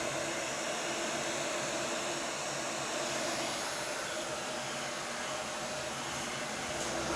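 A heat gun blows hot air onto a plastic car bumper to flatten it and relieve stress, a steady, close, continuous roaring hiss with no breaks.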